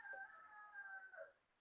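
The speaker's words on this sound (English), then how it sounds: "Rooster." A rooster crows once, a faint, distant drawn-out call that trails off, heard alone without talk.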